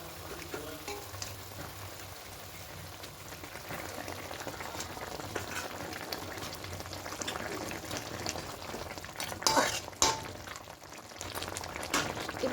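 Fish pieces are added one by one to simmering mustard-poppy gravy and stirred, producing soft bubbling and faint sizzling with occasional clinks and scrapes, low in level and without talk.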